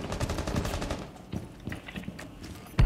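IQ firing her weapon in Rainbow Six Siege, rapid automatic bursts near and loud at first, then scattered single shots and shorter bursts fading lower, ending with a sharp impact.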